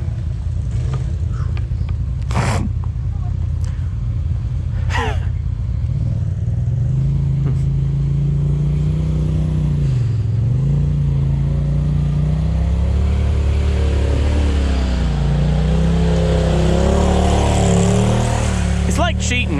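Turbo S off-road vehicle engine rumbling and revving on a wooded trail, a steady loud drone that rises and falls in pitch, with sharp knocks early on and people talking over it.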